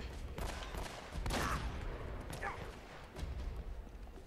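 Gunfire in the video game Uncharted: Drake's Fortune, with a few quiet distant shots and short bursts over a faint, steady game background.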